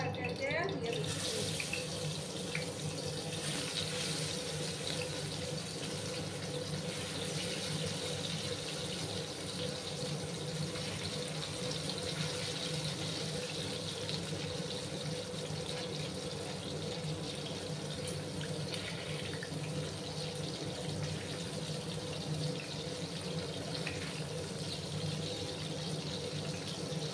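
Pieces of fish are laid one by one into hot oil in a pan and fry. A dense, continuous sizzle hisses close by at a steady level for the whole stretch.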